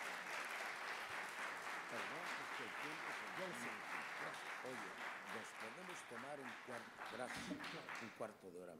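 An auditorium audience applauds a guest speaker at a talk. The clapping is faint and steady, with a voice talking over it throughout.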